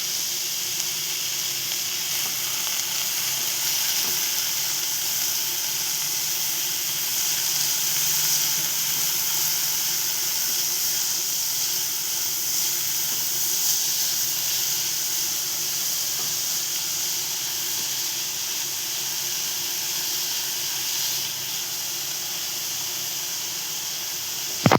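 Chopped onion and tomato fry in a pan for Indian-style sweet corn pasta, giving a steady, even sizzling hiss that holds at a constant level for the whole stretch without talking.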